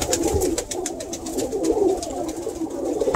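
Pigeons coo steadily in a loft, a dense chorus of low throaty murmurs layered with fluttering and shuffling, close and continuous throughout.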